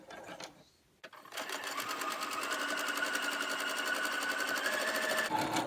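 A sewing machine back stitches a cloth face mask, starting after a brief pause and then running in a fast, steady, close mechanical whir that stops abruptly near the end.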